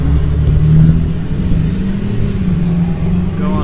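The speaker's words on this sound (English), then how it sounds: "Go on, big truck." A big truck drives past on a rural road in Wise County, Texas, its engine making a loud, close, steady low rumble that fills the whole moment, with no talking over it.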